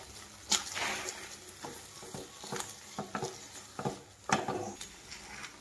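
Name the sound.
stirring wheat rava laddu mixture with dry fruits in a pan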